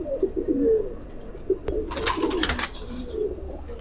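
A pair of Rampuri pigeons coo nearby in soft repeated throaty calls. A short rustling burst in the middle sounds like wing or cage movement.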